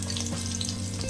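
Cumin seeds and curry leaves sizzle in hot oil for sabudana khichdi, a bright, steady frying hiss over a constant low mechanical hum, close by with no speech.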